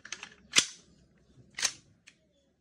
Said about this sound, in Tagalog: WE 1911. Firing.